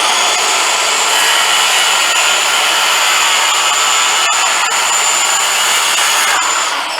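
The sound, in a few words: circular saw cutting a 2x4 board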